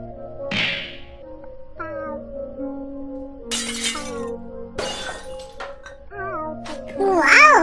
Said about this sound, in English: The kitten broke things with the ball.